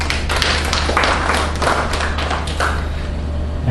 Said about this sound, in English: giving yourself a round of applause